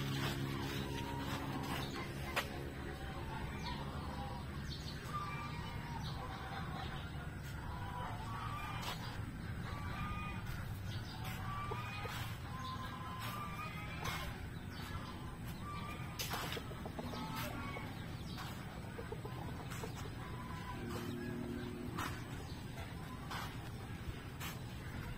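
Chickens clucking and birds calling outdoors in San Luis, Pampanga, a mix of faint, scattered calls and short clucks over steady background ambience.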